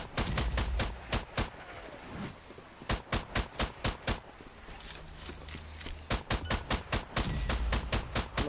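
Rapid bursts of video-game gunfire from Strange Brigade crack out in tight, loud volleys, pausing briefly before another string of sharp shots, with no talking.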